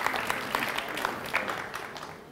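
Lecture audience breaking into applause in a hall, a steady wash of many hands clapping at moderate level throughout, with scattered louder claps standing out.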